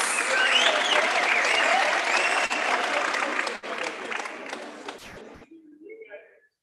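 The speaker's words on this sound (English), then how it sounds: "A round of applause for the Stay Classics" Loud, dense applause from guests at a gala dinner for an international conference on community engagement, fading out over several seconds before a brief spoken voice at the end.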